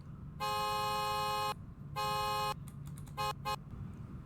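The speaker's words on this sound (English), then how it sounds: "Here's what its horn sounds like." The horn of a 2020 Celestial Type-7 car in the video game Greenville honks twice in long steady blasts, then two short quick toots, loud and close with a synthetic, even tone over low engine hum.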